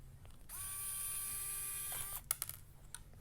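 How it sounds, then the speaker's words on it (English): A ratchet screwdriver turns a screw during an electronics build. A faint, close mechanical whir lasts about a second and a half, followed by a few soft clicks. "I'm using my nice RNA tool screwdriver"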